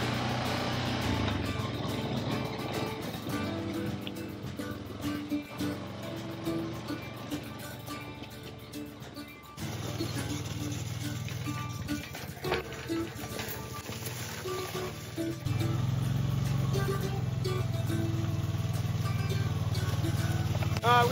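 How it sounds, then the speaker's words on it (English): An ATV or UTV drives while towing a log handling trailer carrying a long log, its engine droning steadily and fairly close with rattling and shifts in pitch as it moves over rough ground. "Let's go drive this thing around and take it over some stuff."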